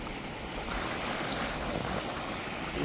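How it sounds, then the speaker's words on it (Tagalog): Steady sea waves wash and rush in a continuous broad roar along the Corniche, mixed with wind buffeting the microphone. "okay lang madungog na tingog sa dagat"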